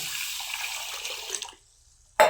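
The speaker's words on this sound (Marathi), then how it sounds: "ते बघा पाणी टाकायचं त्याला" Water pours and splashes steadily as something is washed under it, a close broadband rush that stops halfway through, followed by a short pause and a sudden sharp splash or clatter at the end.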